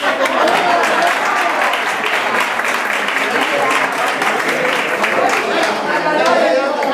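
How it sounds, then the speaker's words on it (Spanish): An audience at an interactive flamenco show claps steadily for several seconds, a dense patter of hands with voices mixed in beneath it. "Un aplauso."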